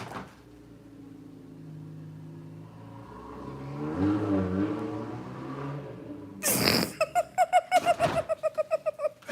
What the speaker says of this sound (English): I was gonna say they might got a hole in their muffler